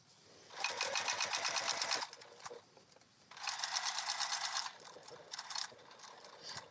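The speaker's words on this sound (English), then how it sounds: "this is also sewing our hole in the bottom of the card slots closed" A sewing machine stitches closed the hole at the bottom of card-slot pockets, running in two bursts of rapid mechanical chatter with a quieter pause between them and a few short stitches at the end.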